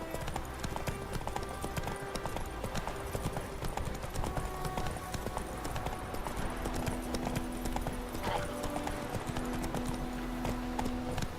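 A horse gallops in The Witcher 3 game, its rhythmic clip-clop of hooves continuous and fairly even over a steady background, with faint tonal game sounds layered underneath.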